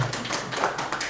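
An indoor audience at a canvassing strategy seminar gives a short, faint burst of scattered clapping for themselves, lasting only about a second.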